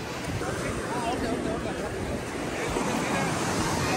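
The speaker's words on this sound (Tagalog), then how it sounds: "Ang ganda pakinggan ng mga ano, alon ng dagat, saka yung hangin dito." Sea waves washing onto a Bali beach in Indonesia with steady wind blowing, a loud continuous roar of surf and gusting air close to the microphone throughout.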